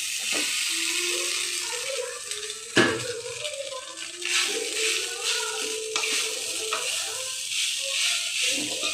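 Rice tumbles into a hot pan for garlic chili rice and fries with a steady sizzle, broken by scraping and clacking stirs of a utensil against the pan, with no talking.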